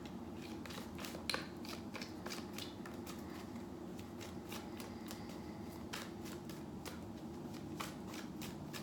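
Tarot cards being shuffled by hand, a steady run of soft riffling flicks and slaps repeating throughout at close range, quiet and alone with no voices.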